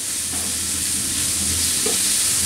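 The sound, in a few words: beef frying with white pepper powder in a wok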